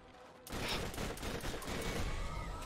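Rapid, sustained gunfire from the PC first-person shooter Borderlands fills the clip: loud, dense overlapping shots begin after a short quieter moment and continue without a break.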